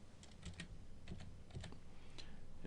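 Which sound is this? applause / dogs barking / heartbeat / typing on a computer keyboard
typing on a computer keyboard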